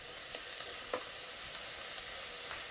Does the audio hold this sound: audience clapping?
no